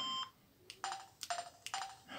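Keypad tones from a Samsung SGH X510 red flip phone set to its xylophone sound, several short bright plinks pressed in quick succession, clear and isolated with no talk.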